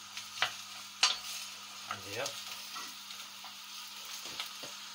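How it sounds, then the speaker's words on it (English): Gammon and red cabbage sizzling in a pan: a steady frying hiss with a few sharp scrapes and clinks as the food is stirred, and a voice briefly speaks. "You can hear it sizzling now."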